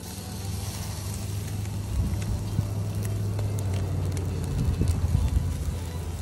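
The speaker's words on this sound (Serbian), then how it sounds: "Jaka nam malo vatra, brate." A strong fire burns under meat roasting on a spit in the desert, a steady low roar with occasional crackles and light wind noise, growing a little louder partway through.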